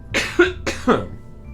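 Two sharp coughs from one person close to the mic, each a harsh burst followed by a short rasping tail, spaced about half a second apart, with no talk around them.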